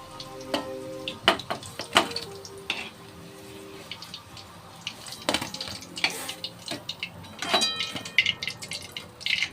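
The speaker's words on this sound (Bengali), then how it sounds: "বাকিগুলো ভেজে নেব।" Chicken pakoras fry in hot oil. A soft, steady sizzle runs throughout, broken by frequent clinks and scrapes of utensils against the pan.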